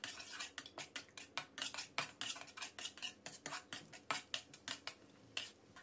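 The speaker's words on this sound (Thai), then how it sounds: "นำกระเทียมสับของเรานะครับมาเจียวให้สุกเหลืองหอมเลยครับด้วยไฟอ่อน" Minced garlic is stirred in a pan over low heat, with a quick, even run of spatula scrapes against metal, close and crisp.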